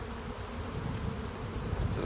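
Honey bees hum steadily inside a hive, a dense, continuous buzz close by with no talking.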